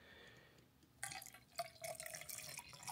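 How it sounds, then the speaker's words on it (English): Coffee poured one-handed from a French press into a cup, a soft liquid splash and trickle with a few drips, faint and close with no talking. "Okay, I'm gonna try to pour this with one hand."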